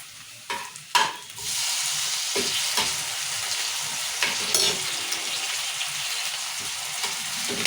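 Tomatoes, onions and chillies fry in oil in a pan for cabbage curry, with a continuous bright sizzle after a couple of sharp utensil knocks and occasional stirring scrapes.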